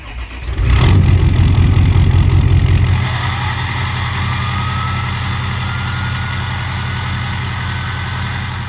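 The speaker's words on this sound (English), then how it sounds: "let's go ahead and grab us a little 6-liter startup" A 6-liter diesel truck engine cranks and fires, roaring loudly for a couple of seconds before settling into a steady, deep idle close by.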